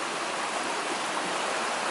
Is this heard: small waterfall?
yes